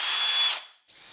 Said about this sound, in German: Zum Testen jetzt hier einfach ein paar Löcher ins Holzbrett reinbohren